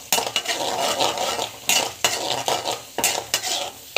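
Chana dal and nuts being sautéed in a pan, a spoon scraping and stirring in repeated strokes over a soft sizzle, with clinks of metal against the pan, no talking.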